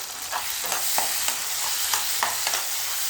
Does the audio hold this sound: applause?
no